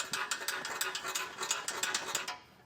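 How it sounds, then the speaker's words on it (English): A metal whiz nut tab from a Blue Ox base plate kit for a 2018 Jeep JK Wrangler is wiggled back and forth against a tack weld, giving a close, rapid, ratchet-like metallic clicking that fades at the end. "just wiggle this back and forth and it'll break that small little tack weld on there"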